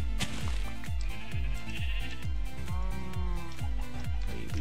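A sheep in Minecraft bleats again and again in a quick, steady rhythm of loud, close calls with no talk over them.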